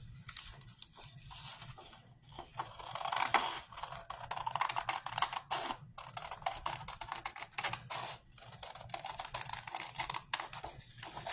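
Scissors cut a paper shape for a scrapbooking page, making a busy run of crisp, crunchy snips and paper rustling that is close and continuous with brief pauses.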